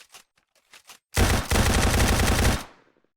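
Submachine guns fire in a Minecraft Marvel superheroes mod with a rapid, loud burst of shots lasting over a second, preceded by a few short quieter clicks and ending abruptly.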